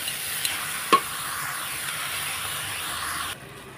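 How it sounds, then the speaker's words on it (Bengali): Boiled banana flower stir-fries with spices in a pan, a steady close sizzle and hiss with a couple of brief spoon knocks, then the frying noise drops away near the end. "তখন এটাকে দিয়ে ভালোভাবে মশলা দিয়ে কষিয়ে নেব।"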